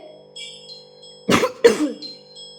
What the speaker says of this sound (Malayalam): അയ്യോ, ഞാൻ എപ്പോഴേക്കും ചുമച്ചു.